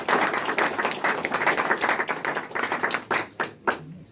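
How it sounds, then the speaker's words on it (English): A crowd at an office open house applauds with dense, steady clapping that thins out toward the end, leaving a few scattered individual claps. "please let them give a round of applause again"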